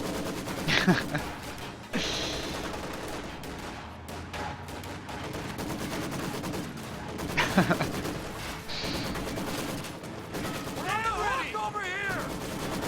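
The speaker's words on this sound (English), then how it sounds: "full squad of riflemen just died to a Maxim in red cover" Maxim machine gun firing in a World War II strategy game, with bursts of automatic fire and heavy impacts spread through a busy battlefield mix, loud at moments and partly under talk.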